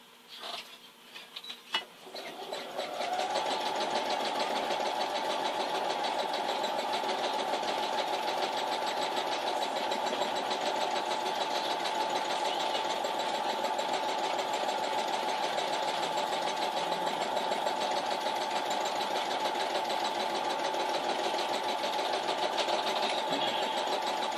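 A sewing machine stitches a quilt-as-you-go block, starting with a few short bursts and then settling into a long, continuous rapid whirring run, close and steady.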